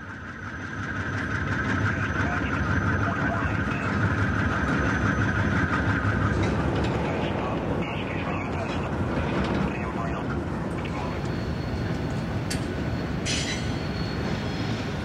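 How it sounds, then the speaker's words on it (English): A pair of B-36 locomotives switch cars in a rail yard in 2001, a steady diesel rumble joined by a long, loud wheel squeal that fades out partway, with later faint clanks and talk over the top. "This pair of B-36s was switching the yard in October 2001."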